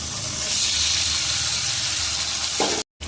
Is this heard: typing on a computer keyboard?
no